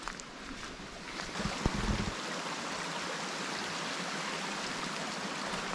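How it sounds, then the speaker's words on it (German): A small mountain stream flows through a forest with a steady, close rushing and burbling that continues throughout without pause. "Hier ist zum Beispiel wieder auch so ein Fluss."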